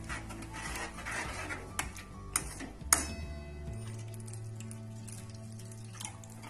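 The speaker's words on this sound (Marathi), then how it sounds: "आता यामध्ये पाणी टाकायचंय, आपल्या आवश्यकतेनुसार पाणी टाकायचंय," Water being poured into a pot of masvadi rassa curry, a quiet trickling and splashing with a few clinks against the pot, faint and close with no talk.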